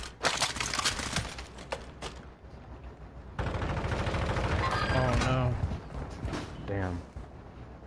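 Gunfire from a shooter video game, sharp bursts of shots at the start and scattered through the clip, with a person talking over much of it.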